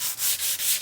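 320-grit sandpaper rubbed across a Hyundai car body panel, a steady hissing scrape in rapid back-and-forth strokes, close and fairly loud with no talk.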